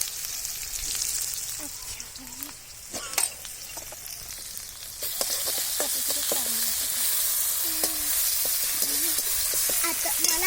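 Garlic and green chili paste sizzles steadily in a hot pan for a home-style cauliflower dish, a dense frying hiss that grows louder midway, with occasional stirring clinks and scrapes and no talk.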